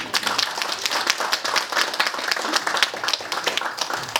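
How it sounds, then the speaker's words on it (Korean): An audience at a leadership academy lecture applauds to welcome a university professor emeritus of business, producing a full, close burst of steady clapping from many hands with no talking. "우리 이강옥 교수님을 뜨거운 박수로 모시겠습니다."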